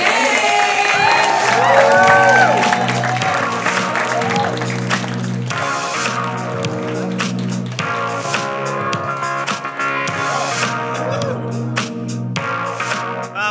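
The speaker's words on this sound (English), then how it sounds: "put your hands together right now? Start clapping. Clap louder." A live audience claps and cheers for performers taking the stage, with scattered whoops and shouting voices over sustained applause that stays loud for the whole stretch.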